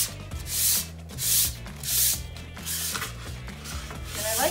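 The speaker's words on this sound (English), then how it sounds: "But just a light sand." Light hand sanding of a wooden sign board from a DIY sign kit, slow rhythmic rubbing strokes about once per second, close and steady with no talking.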